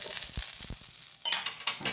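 Ghee or oil sizzling on a hot iron pan as ragi cabbage rotti cooks, a soft steady frying hiss broken by a few utensil taps, then sharper crackling bursts.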